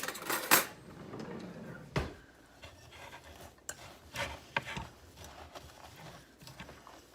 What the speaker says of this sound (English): Then I'm going to stir this up.